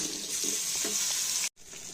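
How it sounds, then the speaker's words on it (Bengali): Marinated brinjal with green chillies and spices hits a hot pan with a steady hissing sizzle and a few wet splats, then cuts off abruptly near the end. "এবার এই ম্যারিনেট করা বেগুন, কাঁচা লঙ্কা, সব মশলা দিয়ে যেটা আছে ওটা ঢেলে দেব।"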